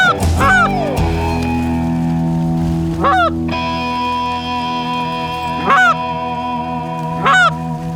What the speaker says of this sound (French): le col électronique lui permet de garder un son permanent